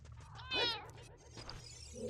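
A house cat meows once, faint and brief, then makes a softer follow-up sound over low background noise.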